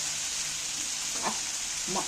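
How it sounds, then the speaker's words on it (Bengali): Ginger-garlic paste and onion frying in oil for an egg curry, a soft, steady sizzle heard close, with a couple of faint stirring knocks. "আদা রসুন বাটাটা ভাজা হয়ে গিয়ে তেলও ছেড়ে দিয়েছি"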